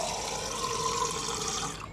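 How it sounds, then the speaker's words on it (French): A tap in a camper van runs freely with a steady, full gush of water that holds close and even before easing off near the end; no one talks. "L'eau coule à flot."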